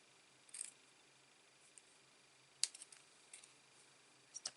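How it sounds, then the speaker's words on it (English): Scissors make a few crisp, faint snips while trimming paper card stock. The cuts come as sparse, close clicks spread over a few seconds against a quiet background. "And then taking some smaller snips. I'm just going to trim off the bits we don't need."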